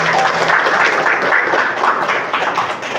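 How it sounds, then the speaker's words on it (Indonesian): A group of schoolchildren in a classroom claps together in a dense, continuous patter of small hands, with light background chatter mixed in. "Oke, tepuk tangan dulu dong."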